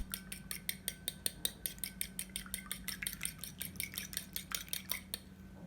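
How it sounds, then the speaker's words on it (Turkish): A fork whisks three eggs in a bowl for a spinach quiche filling, giving a rapid, even run of bright metallic clinks close up that stops near the end. "3 yumurtayı da çatalla biraz çırpalım ve harcın içine ilave edelim"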